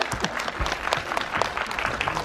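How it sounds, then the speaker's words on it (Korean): Warm, dense applause from a cinema audience at a film talk event in a Megabox theater, a continuous wash of many hands clapping at moderate volume. "제가 너무 중근한 마음으로 이렇게 박수 한번 부탁드립니다"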